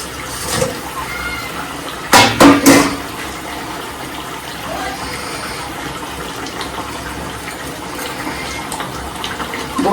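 Tilapia pieces are tipped into a boiling mustard-paste gravy, giving a short cluster of loud splashes and gushing bursts over a low, continuous bubbling simmer.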